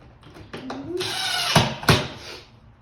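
A power drill drives the last screw into a shop vac assembly, with short whirring bursts and ratcheting mechanical clicks close up, followed by a louder sustained spin.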